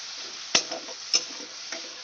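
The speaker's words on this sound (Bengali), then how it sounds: "সেই ভিজানো মিশ্রণ মশলাটা আমি দিয়ে দেব। দিয়ে এবার কষাতে থাকবো।" A soaked mix of ground spices with turmeric frying and being stirred in a pan for a boal fish curry with potato, brinjal and lentil dumplings. A soft steady sizzle is broken by two sharp scrapes of the spoon.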